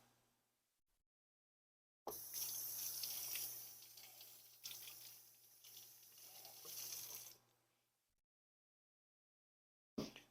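Tap water running into a kitchen sink while potatoes are washed, a steady close rush of water lasting several seconds with slight splashing shifts, starting and stopping abruptly with near silence around it.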